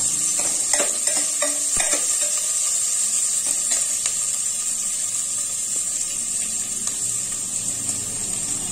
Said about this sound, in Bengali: এখানে একটাই পেঁয়াজ দিলাম। দিয়ে এটাকে একটু নাড়াচাড়া করে নেব।